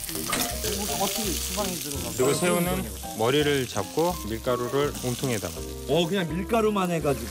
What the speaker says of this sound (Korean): 홍피망 볶아주세요. 소금은 아주 조금만.